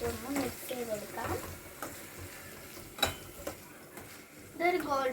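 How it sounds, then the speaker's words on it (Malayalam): Onions being stirred as they fry in a pan: quiet, steady sizzling with soft scraping and clinks of the spoon at irregular intervals, with some faint, indistinct sounds mixed in. "നമുക്ക് ഉള്ളി ചേർത്ത് കൊടുക്കാം. നമ്മളിപ്പോഴത്തേക്ക് നല്ലപോലെ നമുക്കൊന്ന് മിക്സ് ചെയ്ത് കൊടുക്കാം."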